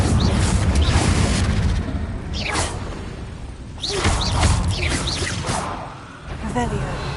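Blasting-spell explosions from the Hogwarts Legacy game, several loud booms and whooshing bursts spaced a second or two apart amid busy combat noise, with no voices.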